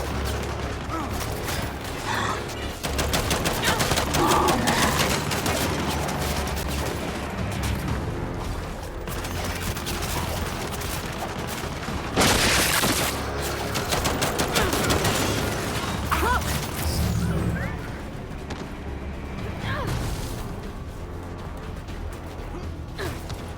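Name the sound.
turrets firing in Gears 5 video game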